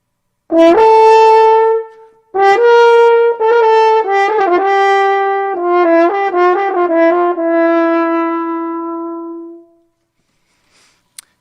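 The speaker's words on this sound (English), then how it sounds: "Here's some of that bullfight music." Bright brass instruments play a bold, dramatic fanfare of sustained notes and quick figures, loud and close, ending in silence.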